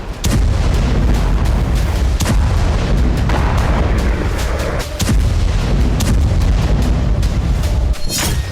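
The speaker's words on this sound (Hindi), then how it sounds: "ये रूस का फास्फोरस बम है, जो बेहद घातक है।" Russian phosphorus bomb strikes in war footage produce a loud, continuous barrage of heavy booms and crackling bursts with repeated sharp impacts.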